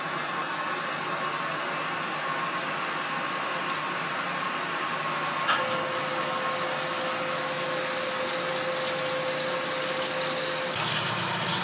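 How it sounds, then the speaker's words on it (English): A continuous mechanical drone of a vacuum pump filtering sulfuric acid runs throughout, steady and fairly loud, with a tonal whine rising partway through and faint rattling. "vacuum pump is working hard to pull the sulfuric acid out"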